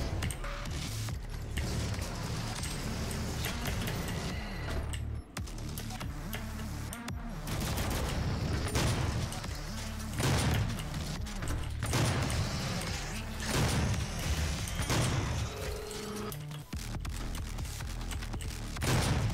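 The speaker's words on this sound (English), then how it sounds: "Start using the super shotgun." Super shotgun blasting in the DOOM video game amid a busy firefight, repeated heavy booming shots at irregular intervals over dense combat noise and music.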